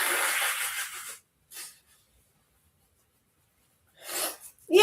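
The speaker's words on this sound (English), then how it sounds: "I think I'm going to sneeze now" A single person's loud sneeze bursts out at the start, followed by a couple of short sniffs or breaths separated by silence.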